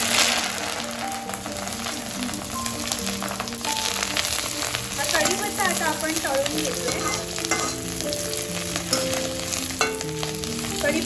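Curry leaves fry in hot oil as a tempering for chivda. A steady, dense sizzle continues with occasional stirring scrapes, and a faint tonal sound runs underneath.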